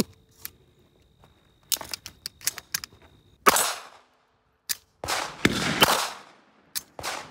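Beretta 3032 Tomcat .32 pistol fired rapidly: a few quiet mechanical clicks, then several sharp, loud cracks in quick succession, close by, with silence between them.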